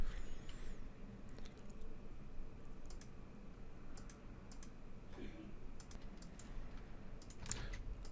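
Someone types a password on a computer keyboard: a handful of light, scattered key clicks, faint and close, over a steady low room hum.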